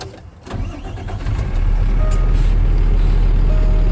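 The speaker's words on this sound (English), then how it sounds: "First step is starting the truck." A dump truck's diesel engine cranks and catches, then settles into a loud, steady low idle rumble that fills the rest of the moment, with no talking.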